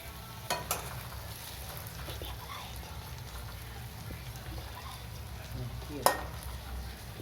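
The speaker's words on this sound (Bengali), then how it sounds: "টমেটোটা একটু ভাজা হয়ে যায়" Tomato frying in a pan with onion, garlic and ginger, a faint steady sizzle with occasional sharp clinks of a utensil stirring, heard alone without talk.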